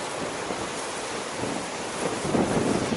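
Sea waves with whitecaps wash in on a windy day at Zelenogradsk, a steady broadband surf roar mixed with wind buffeting the microphone, swelling louder toward the end.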